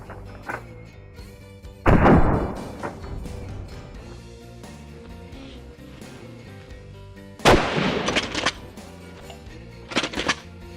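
Shotgun loaded with birdshot fired outdoors: two loud, sharp blasts several seconds apart, each followed by a short echoing tail, with a quieter crack near the end and low background noise between shots.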